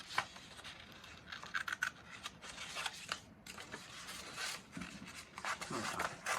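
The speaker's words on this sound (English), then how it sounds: "You're gonna cut your mitten out like this." Scissors snip and rasp through paper while a mitten shape is cut out at home, with soft, close crunching and rustling cuts in uneven bursts, quiet and continuous with no talk.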